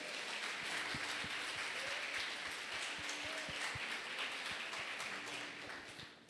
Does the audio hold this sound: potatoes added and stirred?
no